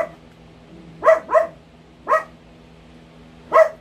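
Pet dogs bark at home in four sharp, close barks: two in quick succession, then one, then a final bark after a pause, with quiet in between.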